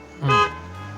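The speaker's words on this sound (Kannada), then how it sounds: "ಸ್ಟೇರಿಂಗ್ ವೀಲಲ್ಲಿ ಒಂದು ಬಟನ್ ಇರುತ್ತೆ ದೊಡ್ಡದಾಗಿ ಇದು ಹಾರ್ನ್" A single short car horn toot from the steering-wheel button of a car in a driving lesson, close and fairly loud, followed by a quiet engine idle.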